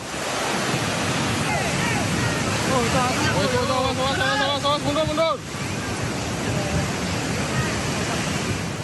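Floodwater from a flash flood rushes over a national road on the Trans-Sumatra route, a loud continuous roar of churning water with whooshing wind bursts and a brief surge of higher tonal noise near the middle.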